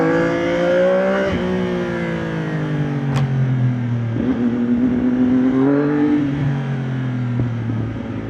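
A CF Moto 675NK motorcycle fitted with a new muffler revs close by, climbing and falling repeatedly in loud, rasping sweeps that hang at high pitch, then drop back to idle.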